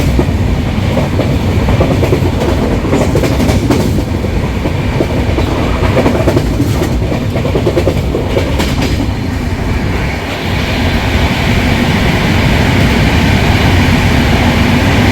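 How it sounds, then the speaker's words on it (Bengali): Dhauli Express, an Indian passenger train, running at top speed with a loud, steady rumble and rail clatter throughout, heard from on board. "ধৌলি এক্সপ্রেসের টপ স্পিড দেখো।"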